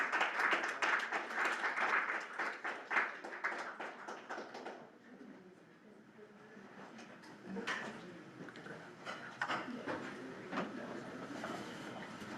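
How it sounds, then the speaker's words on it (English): An audience at a conference presentation clapping, a dense burst of applause that fades to scattered claps and rises again with a few voices. "All right, one more round of applause."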